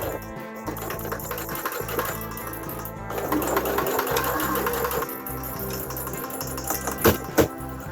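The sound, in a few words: sewing machine stitching a DIY face mask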